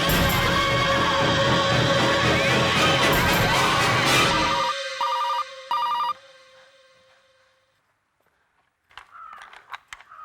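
A telephone rings loudly and continuously for several seconds, then cuts off, followed by a few short electronic beeps and near silence.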